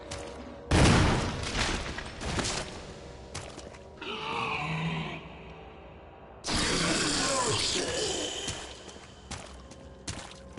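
Grenade rounds fired at zombies in Resident Evil Remake: a loud blast followed by rumbling, a zombie's guttural groan in the middle, then a second long burst of explosive roaring noise.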